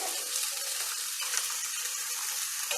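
Onions sizzling steadily in a hot pan, a constant bright frying hiss for a soya tomato pulao, close and even throughout with faint stirring.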